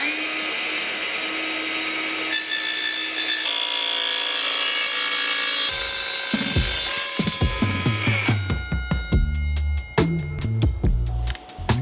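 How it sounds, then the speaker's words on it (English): Metal-cutting saw with a chip-collecting container cutting aluminium for a motorbike clutch cover, a loud whining run-up followed by a series of sharp rhythmic cutting bursts, close and harsh. "This saw is specifically designed for cutting metal."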